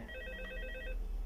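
A telephone rings in Five Nights at Freddy's 2, a quick electronic bell trill repeating in bursts over a low steady hum, clear and fairly quiet with no voices.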